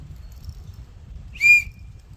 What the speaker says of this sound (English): Got a survival compass whistle thing.